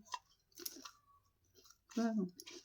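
Someone nearby crunches puffed rice (muri) in a few crisp, clicking bites, with brief talking between the chews.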